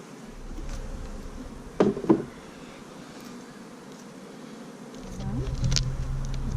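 Bees hum low and steady through a hive inspection, a soft, faint background drone broken by a couple of brief knocks and rising a little toward the end.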